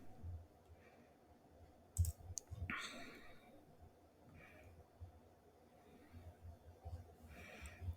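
A few sharp, faint computer mouse clicks sound at a desk, spaced irregularly, over a quiet background with soft talking in between.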